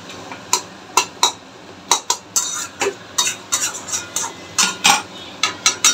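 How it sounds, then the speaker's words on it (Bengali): Mutton keema being stirred in a pan before spinach greens go in: a close, steady run of scraping strokes every half second or so over a soft sizzle, with no voices. "এটা একটু নেড়ে চেড়ে শাকটা দিয়ে দেবো"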